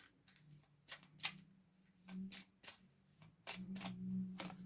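Tarot cards being shuffled by hand in several separate bursts of crisp riffling and flicking, close and moderately loud, with brief quiet gaps between them and no talk.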